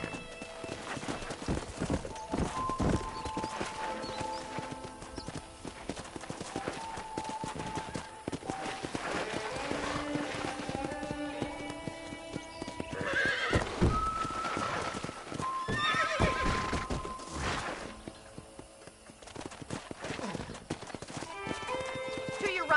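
Steady clip-clop of horse hooves, a horse's whinny, and an occasional voice, all over continuous background music, from the ranch-riding video game Red Dead.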